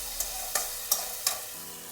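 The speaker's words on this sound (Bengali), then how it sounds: "একদম ভালো করে একটু ভেজে নিচ্ছি" Small fish and bitter gourd fry in a pan for a Bengali home-style dish, with a steady sizzle under four evenly spaced spatula scrapes, close and clear, with no voices.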